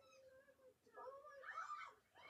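Several cats give short, wavering meows, a couple of thin cries in quick succession. They are fairly faint and stand out over a quiet background.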